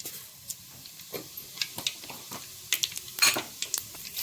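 Cumin seeds dropped into hot oil in a pan on a village kitchen stove, a light sizzle with scattered metallic clinks of stirring and pan contact, close and moderately loud, no talk.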